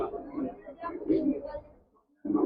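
Pigeons coo in a home pigeon loft, low throaty calls repeating close by with a short pause before another coo begins.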